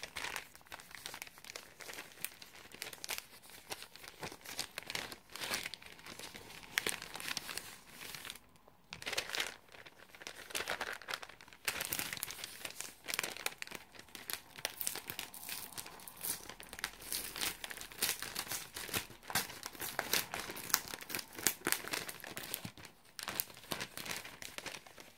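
Paper crinkles and rustles continuously, close and fairly quiet, as a taped advent calendar gift is unwrapped, with irregular crumpling and occasional tearing sounds and brief pauses.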